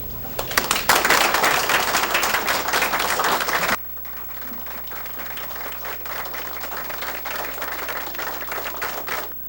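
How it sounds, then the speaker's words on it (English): Long, sustained applause fills a city council meeting in Paintsville, Kentucky, loud and dense at first, then continuing at a lower level after an abrupt drop, with no talk over it. "Given that long-standing applause and our camera angle, we couldn't work Marlena into the frame."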